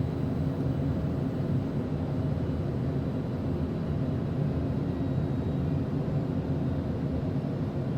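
An airplane descending toward landing on a flight from Mecca to Dubai, flaps extended; a steady, loud broadband cabin drone with a low rumble holds constant throughout, no voices.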